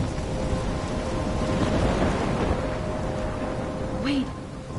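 Steady rain and low rumbling thunder fill a storm in the video game Life is Strange, a constant wash of sound that holds evenly throughout and carries no voices.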